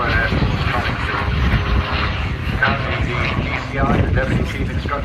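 A Supermarine Spitfire flies at the Southport Airshow, a sustained loud engine roar that rises and falls slightly, with a public-address commentator talking over it throughout.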